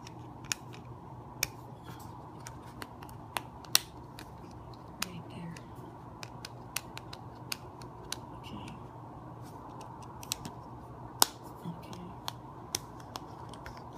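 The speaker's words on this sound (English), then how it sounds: "Okay, I heard a clicking sound." Clicking from a Spigen Tough Armor case on an iPhone 6 Plus as its kickstand is handled: many sharp, close clicks and taps spread irregularly over a quiet background, with no talking.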